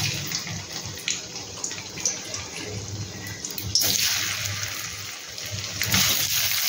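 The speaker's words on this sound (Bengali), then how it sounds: "এবার এর মধ্যে প্রথমে আলুগুলো দিয়ে ভেজে নেব।" Potato pieces hit hot mustard oil in a pan and fry with a steady sizzling hiss, which swells louder in bursts partway through and again near the end.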